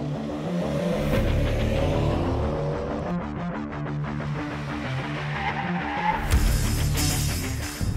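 A Mercedes-AMG A35 sports car accelerates hard, its engine note climbing in rising harmonic sweeps, easing and then surging again with a loud, close, continuous roar and no talk.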